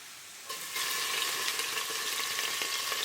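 Minced garlic, about a tablespoon, dropped into a pot of homemade ramen broth: a quiet lull, then a steady broadband sizzle that swells and holds, with faint stirring scrapes beneath it.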